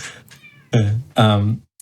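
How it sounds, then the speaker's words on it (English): A cat meows twice in the background, each cry long and drawn out, the second one longer and fairly loud, with a short faint sound at the very end. "I can hear a cat. Yeah, there's a cat in my background."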